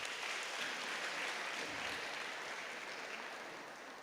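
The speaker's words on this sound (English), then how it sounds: "Can we give her a warm round of applause," Faint, distant applause from an audience at a Human Rights Day celebration, a continuous soft patter that slowly tapers off.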